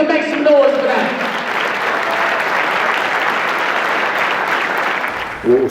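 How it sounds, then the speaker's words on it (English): A large crowd claps and cheers loudly and steadily, a dense wash of applause after a brief voice at the start. "Clap your hands and make some noise for that"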